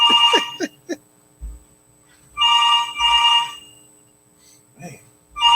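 A telephone rings on an outgoing call, repeated electronic trilling bursts separated by pauses, with faint voices and low thumps in between.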